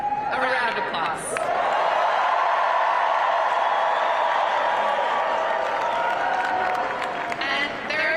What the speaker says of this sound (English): So please join me in giving Zohran, our friend, a round of applause.